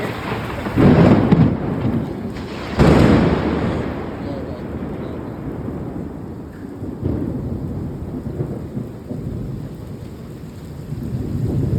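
Heavy rain pours steadily through a night storm while deep thunder rumbles loudly twice near the start, then settles into a continuous low roll under the downpour.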